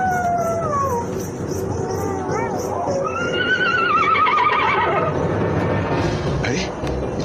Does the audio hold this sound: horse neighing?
yes